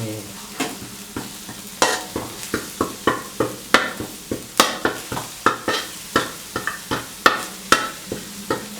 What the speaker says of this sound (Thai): ผัดพริกแกงให้ละลายนะครับแต่น้ำอีกนิดนึง